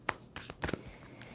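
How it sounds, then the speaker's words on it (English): A tarot card deck is shuffled by hand in quick, soft, close bursts of riffling and rustling, a few separate strokes in a quiet room with no talking. "2 more shuffles."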